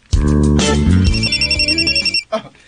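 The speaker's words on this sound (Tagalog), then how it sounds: "imong cellphone, oh. Nag-ring?" A cellphone rings loudly and close up with a bright, repeating electronic ringtone pattern for about two seconds. It stops, and a brief voice follows.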